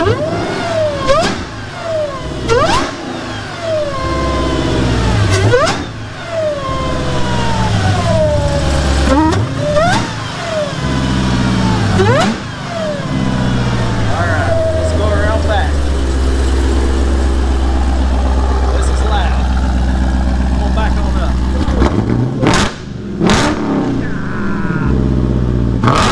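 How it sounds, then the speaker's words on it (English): Supercharged Dodge Durango Trackhawk, built to about 1,200 hp, revving repeatedly with blower whine, loud and close, sharp rises and falls in pitch followed by a long steady high rev and a few more blips near the end. "Let's crank it up. Let's listen to it. Now from inside, the blower sounds awesome."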